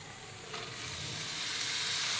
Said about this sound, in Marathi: आता मी ह्या मसाल्यामध्ये ही मसूरची डाळ ओतून घेते